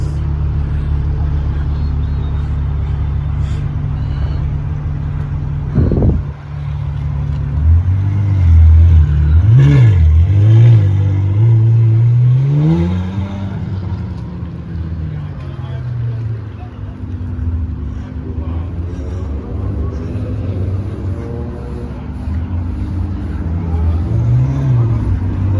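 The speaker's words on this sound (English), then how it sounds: "I think that's 812superfast." A Ferrari 812 Superfast accelerates past with engine notes sweeping upward in pitch and volume, a sharp blip followed by a sustained climbing rev, then a fading rumble amid wind noise.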